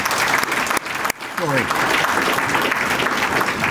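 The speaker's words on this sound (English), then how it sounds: "give yourselves all a big round of applause for that" Audience applause at a community presentation, a dense wash of clapping with a voice speaking briefly over it.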